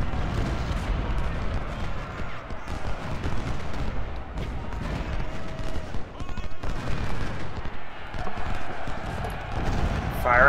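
Musket volleys fired at charging troops in a Civil War strategy video game, a dense, continuous crackle of massed gunfire with scattered sharper shots, loud and steady throughout, with a voice speaking over it.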